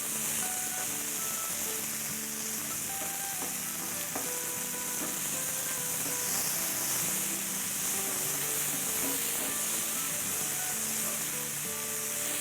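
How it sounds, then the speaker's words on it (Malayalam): Sliced tomatoes sauté in a hot pan with a steady, close sizzle and frying hiss, continuous throughout with faint stirring clatter. "തക്കാളി ഒന്ന് വഴറ്റിയെടുക്കാം"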